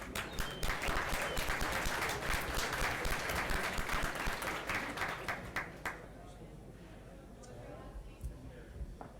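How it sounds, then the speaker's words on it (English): An audience at a SecKC security meetup gives a round of applause for a speaker, loud sustained clapping for about six seconds before it thins out to a few scattered claps and quiet room noise. "give him a big round of applause"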